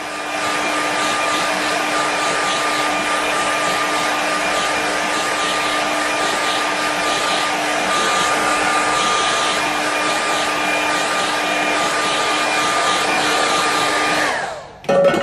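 A hair dryer blows steadily and loudly at close range while drying a painting, a continuous whooshing drone with a faint whine that cuts off abruptly near the end.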